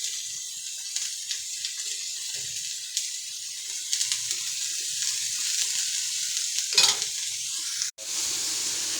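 Grated carrot and beetroot, seasoned with salt, sizzle softly in a pan while being stirred, a quiet continuous hiss with occasional scraping clinks and one sharp knock near the end.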